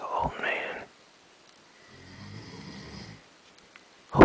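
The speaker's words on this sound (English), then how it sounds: "He's a little baby. Snores like an old man." A small dog snoring, one slow, low, rattling snore in a quiet room, framed by brief faint sounds at the start and a louder noise at the end.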